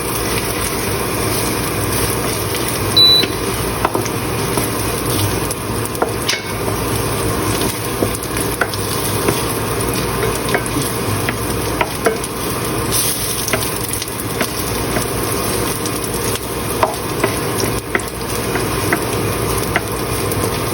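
Garlic sautéing in a pan for Filipino ginisang ampalaya, a steady close sizzle and hiss of frying oil holding evenly throughout with no talking.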